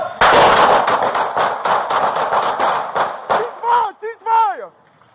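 A single gunshot cracks loudly at close range during a police barricade standoff, its sharp burst followed by a dense wash of echo and noise, then a tense officer's voice shouts over the fading reverberation.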